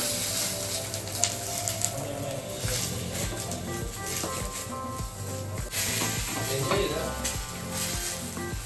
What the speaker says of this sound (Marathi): आता हे 2 वांगे मी तव्यावर भाजते ना, तर थोडा टाइम लागतोय